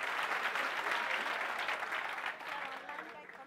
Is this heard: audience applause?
yes